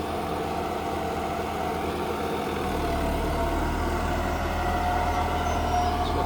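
A tractor engine runs on a farm during maize sowing, with a steady low mid-range rumble that holds throughout and swells slightly stronger partway through, close by and with no voices.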